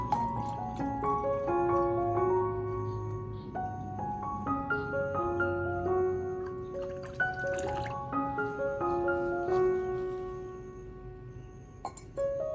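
Room temperature water is poured into a container of turmeric water, a long run of bright, resonant trickling and gurgling tones that rise in pitch as the vessel fills, close and fairly quiet, with no talking.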